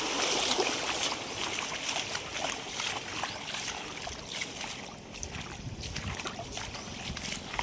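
Rainwater runs over a hillside track near Malnath Mahadev, a continuous close rushing and trickling flow with some wind, steady from start to finish.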